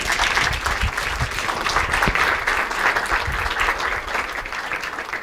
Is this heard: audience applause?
yes